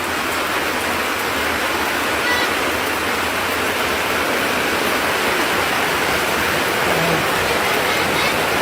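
Heavy rain pours down steadily during Hurricane Melissa in Jamaica, a dense, continuous roar of rainfall and rushing runoff water that stays loud and unbroken throughout.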